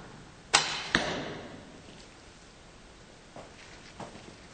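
An arrow is loosed from a primitive selfbow: a crisp string snap, then a second sharp crack moments later, followed by two faint distant thuds in a quiet outdoor setting.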